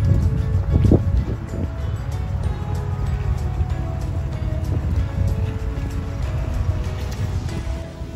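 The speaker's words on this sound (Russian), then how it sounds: "такой ветер с ног сбивает" Strong blizzard wind buffets the microphone outdoors near a car park, a steady loud roar with gusty rumble that carries through the whole stretch without speech.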